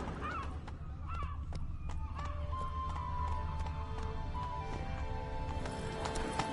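Roach the horse galloping in The Witcher 3, steady hoofbeats clip-clopping under a constant low rumble of game ambience, with tonal music layered over the run.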